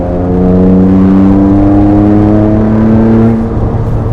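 Rossion Q1 exotic car accelerating hard on a bumpy road, its engine revving close and loud in a steadily rising whine as the turbos come on to full boost, then easing off briefly at the end.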